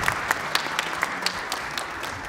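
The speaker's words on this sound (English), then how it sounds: "if you could give her a round of applause." Audience at a community arts festival applauding the pianist, a moderate wash of clapping with a few distinct nearby claps popping out rhythmically, no talk over it.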